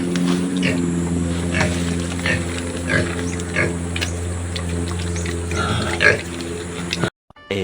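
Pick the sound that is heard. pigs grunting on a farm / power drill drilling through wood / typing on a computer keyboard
pigs grunting on a farm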